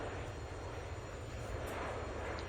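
A steady, unbroken aircraft engine drone from a flight simulator game, running at an even level for the whole stretch with no talking over it.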